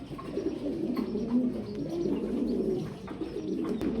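Fancy pigeons at a market stall coo continuously in a dense, overlapping chorus of low, rolling calls from several nearby birds, with faint chirps above and no one talking.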